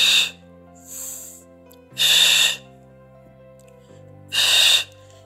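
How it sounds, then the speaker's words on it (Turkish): Deep breaths drawn in and pushed out during a guided core exercise session, three strong loud exhales standing out against quieter inhales and a low steady background hum. "Nefes alıyorum ve ver."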